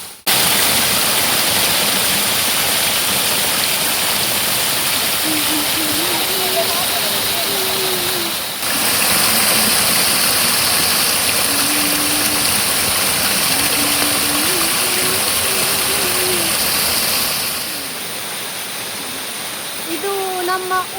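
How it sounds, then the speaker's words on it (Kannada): A village waterfall in the forest roars as a steady, loud wash of rushing water, with someone talking over it for most of the stretch. "ಇದು ನಮ್ಮ ಊರಿನ ಫಾಲ್ಸ್ ಆಯ್ತಾ"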